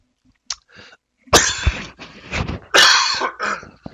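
A person coughs several times, harsh close bursts with brief throat-clearing sounds between them, alone without speech.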